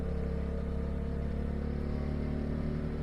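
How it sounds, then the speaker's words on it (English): A race car at a WRL endurance race at Road Atlanta idles in the pits, a steady, close engine drone with an even low rumble and no revving. "Let's listen to the car."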